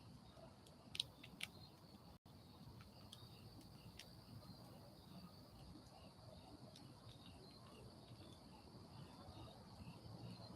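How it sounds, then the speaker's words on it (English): A cricket chirps steadily outdoors at night, faint and distant, its thin repeated calls running through a quiet background. "Got the same cricket out here."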